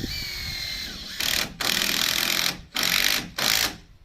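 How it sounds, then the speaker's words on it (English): A cordless screwdriver drill whirs in three bursts separated by short pauses, close up and fairly loud, as a screw is driven in. "Got my screwdriver drill sound somewhere."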